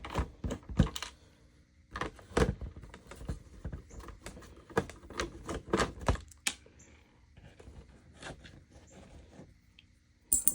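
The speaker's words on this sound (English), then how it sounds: "So I will go ahead and remove the screws now" Screws being removed from a Sega Dreamcast with a standard screwdriver, giving a close, quiet series of small clicks, scrapes and ticks in uneven bursts, with a few sharper taps.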